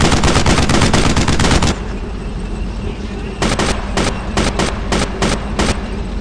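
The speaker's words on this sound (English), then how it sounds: "Heavy fire! Right there!" Heavy gunfire in the World War II shooter Brothers In Arms: Road to Hill 30 crackles in a dense, rapid stream of automatic shots, briefly easing before renewed bursts of loud, close rifle and machine-gun fire.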